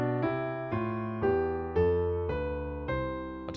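On a keyboard, a right-hand melody plays along with a left-hand bass line, about seven struck notes and chords in an even, unhurried rhythm, clear and alone.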